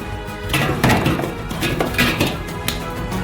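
Four large chunks of ice clatter and clunk into a metal pot, several hard knocks and scrapes in quick, irregular succession.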